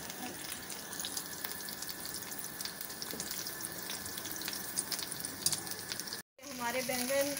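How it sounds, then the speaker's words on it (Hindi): Eggplant slices frying in hot oil for potatoes and eggplant, a steady close sizzle and crackle that runs continuously, cuts out briefly near the end, then returns with a brighter bubbling hiss. "हमारे बैंगन बहुत अच्छे फ्राई हो चुके हैं।"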